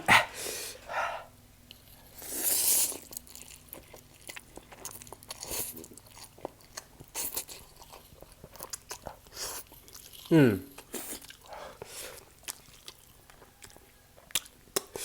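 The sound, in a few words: eating and chewing spicy Korean chicken instant noodles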